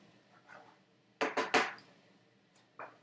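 A spoon stirs peas and orzo in a pot, making a quick run of three bright metallic clanks against the side, then a lone clink after a pause, with faint rustling between.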